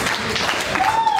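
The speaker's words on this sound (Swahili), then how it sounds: "Hebu mpigie tena makofi." Brief round of congregational applause in a Swahili church service, dense clapping throughout, with a rising whistle-like tone appearing near the end and voices faintly audible.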